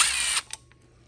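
A power driver whirs steadily for under half a second while tightening carburetor mount bolts on a Stihl FS74 string trimmer, then cuts off, followed by a couple of faint small clicks and near silence.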